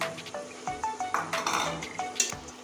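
Fried potatoes being stirred with ghugni spice masala in a pan, a spatula scraping and clinking against metal in a quick irregular rhythm over a soft sizzle, close and fairly quiet.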